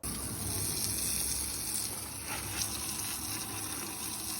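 Water from a hose runs steadily over a horse's legs in a wash stall, a continuous close spray and splash with no one speaking.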